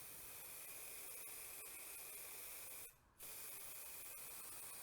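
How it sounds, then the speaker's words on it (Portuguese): Fixative spray hisses steadily onto a drawing, a close, continuous aerosol rush that covers nearly the whole stretch and drops out briefly for a short pause before resuming. "deixa a brisa do spray cair sobre o desenho"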